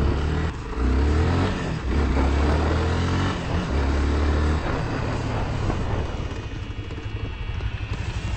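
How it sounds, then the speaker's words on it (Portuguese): Motorcycle with ABS brakes slowing hard, a loud close engine drone with low rumbling pulses that fade as the bike decelerates, then a lighter rattling hum, with no talk. "Agora completona, freio ABS. Vamos ver a diferença."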